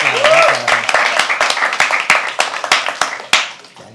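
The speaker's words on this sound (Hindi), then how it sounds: "एक बार जोरदार तालियां," An audience at a live poetry open mic claps in a burst of applause, a dense patter of hand claps thinning out over a few seconds, with a voice speaking over the start.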